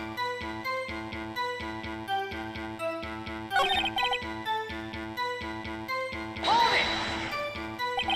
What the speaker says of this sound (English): The ringing from his device is so annoying.